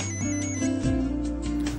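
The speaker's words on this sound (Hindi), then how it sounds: "Your phone is ringing." Mobile phone ringing during a Hindi television drama scene, a sustained melodic ringtone with steady tonal notes changing pitch every fraction of a second, fairly loud and alone with no talk over it.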